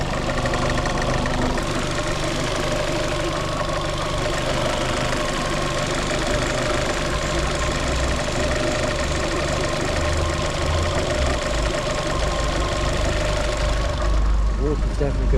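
Fiat Panda 100hp engine with a failed head gasket and overheating, idling steadily with a dense mechanical rumble and faint knocking, continuous and close, with no speech over it.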